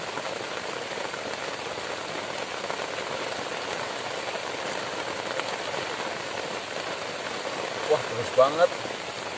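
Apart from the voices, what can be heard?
heavy rain falling on a camping shelter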